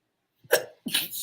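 Two quick sneezes in a row, close and sharp, the second slightly stronger, with a short pause between them.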